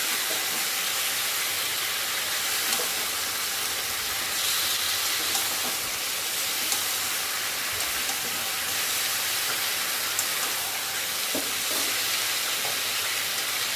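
Meat and spices sizzle steadily in hot oil in a pan, a close, continuous frying hiss with faint scrapes of stirring now and then, and no one talking.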